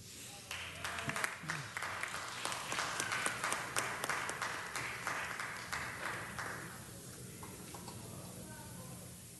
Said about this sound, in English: let's give them a better round of applause than that